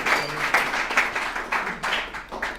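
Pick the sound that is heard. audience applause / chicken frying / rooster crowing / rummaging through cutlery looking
audience applause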